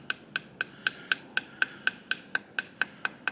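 A hammer tapping a metal sap tap into a maple tree in freezing weather, about a dozen sharp, evenly spaced strikes with a ringing high-pitched ping on each blow, close and clear with no talk.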